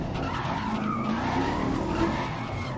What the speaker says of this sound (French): Allez, coup de frein à main.